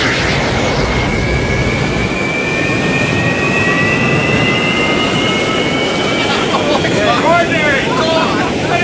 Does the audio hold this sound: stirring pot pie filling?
no